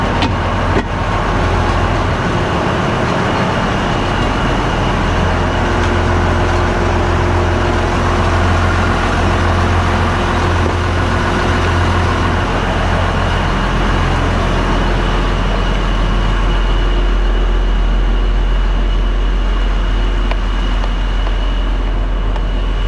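Steady, loud low engine drone of a Case IH 2388 combine idling, continuous and even throughout with a faint tonal hum on top and no talk.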